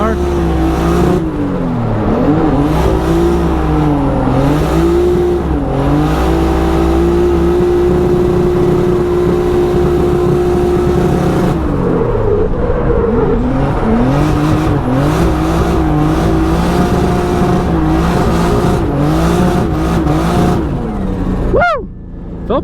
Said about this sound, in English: This poor car's got to get hot after driving like that